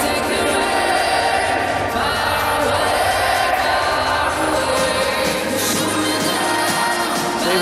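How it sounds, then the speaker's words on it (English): Darts crowd at a PDC Premier League semi-final roars and cheers for Stephen Bunting, a loud, continuous arena din with shouts and whoops, a commentator's voice running over it. "Stephen Bunting wowing the crowd as ever"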